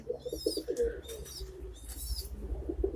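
Birds in a chicken coop where hens sit with chicks, close soft cooing and chirping calls repeating in short bursts over a low background rumble.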